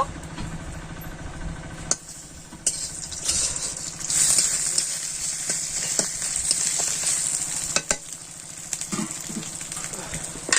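Panch phoron, dry chilli, bay leaf and ginger frying in oil, a bright crackling sizzle with sporadic pops and utensil taps, a low hum running underneath.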